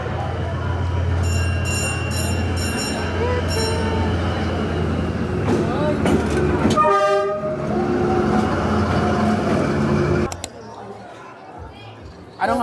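A train rolls past in Hanoi, Vietnam, its steady loud rumble and wheel noise filling the scene, with a sharp horn-like tonal blast midway before the passing cuts off abruptly; voices are heard over the rumble.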